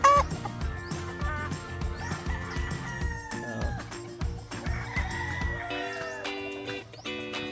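Roosters crow repeatedly at a gamecock farm, with overlapping cock-a-doodle-doos near and farther off, mixed with clucking hens and a busy background of fowl calls.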